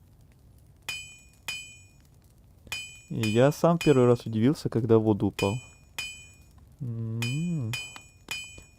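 Blacksmith hammering in the game Hollow Knight: several sharp, bright metallic clinks spaced apart, ringing near and clear, with someone talking over part of the clip.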